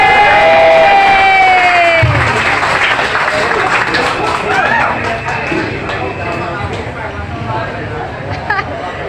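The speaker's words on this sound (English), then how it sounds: "Ladies and gentlemen, make a huge round of applause." A stand-up comedy crowd at a Seminyak, Bali show roars with loud, sustained applause and cheering. Shouts and whoops rise over dense clapping that holds steady and slowly eases off, with a voice briefly ringing out over the noise at the start.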